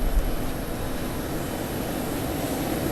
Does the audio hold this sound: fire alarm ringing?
no